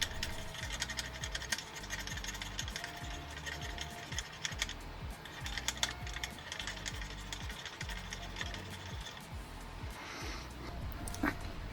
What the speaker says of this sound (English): let's get a Q-tip with some isopropyl alcohol and just scrub it down a little bit